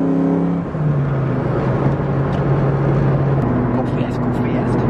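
A loud car drives by at close range, its engine a heavy continuous drone that holds steady throughout and shifts pitch partway through.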